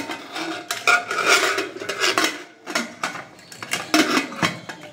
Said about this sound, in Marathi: तर इकडे कुकरमध्ये हे बटाटे उकडायला लावते.